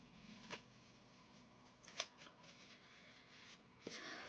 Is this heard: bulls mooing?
no